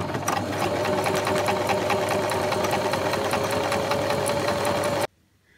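A sewing machine fitted with a braid foot stitches sequins using a long straight stitch, a loud, close, continuous mechanical hum with rapid rhythmic ticking that cuts off abruptly near the end.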